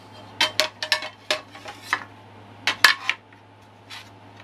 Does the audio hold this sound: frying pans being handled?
yes